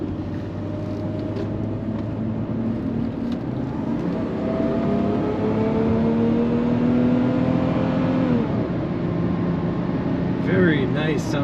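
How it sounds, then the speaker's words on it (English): A 1990 Mercedes-Benz 300E sedan's engine hums smoothly while driving, a quiet steady drone with gentle pitch rises and a shift near the end, heard from inside the cabin with little exhaust note. "Very nice sounding engine. You don't really hear the exhaust, you hear the engine."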